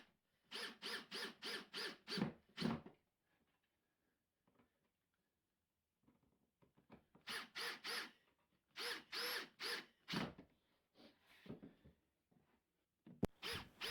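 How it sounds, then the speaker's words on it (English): A power drill pre-drills, countersinks and drives screws to fix a wooden support to the underside of a table, heard as several short, loud bursts separated by quiet pauses. "I'm just simply pre-drilling, countersinking and screwing this to the lower side of the table."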